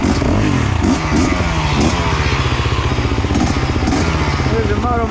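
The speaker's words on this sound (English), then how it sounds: "Let you listen to the engine and how it's running." A KTM two-stroke dirt bike engine runs close by with a loud, rapid, rattling putter that stays fairly steady throughout.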